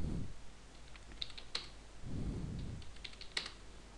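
Keystrokes on a computer keyboard while a Cisco router is set up for telnet: scattered soft clicks in small bursts, quiet and close, over faint room noise.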